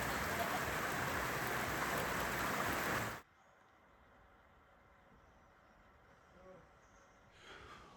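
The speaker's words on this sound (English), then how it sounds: "It is raining." Heavy rain pours loudly for about three seconds, then cuts off abruptly to a quiet background with faint distant noises.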